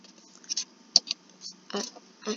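Computer mouse clicks come through as a few sharp, sparse ticks, close and quiet, scattered against faint room noise while someone works in Desmos online.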